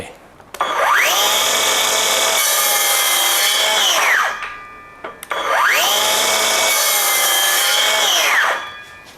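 A SKIL 6.5-inch cordless circular saw spins up with a rising whine and cuts through wood twice, each pass a loud, steady high-pitched scream that winds down before the next start.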